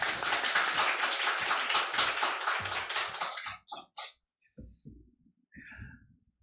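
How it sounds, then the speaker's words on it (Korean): A church congregation at a Sunday service claps together as a missionary comes forward, with loud, dense applause for about three seconds that then cuts off, followed by a few scattered knocks and small sounds. "나오실 때 함께 박수하겠습니다."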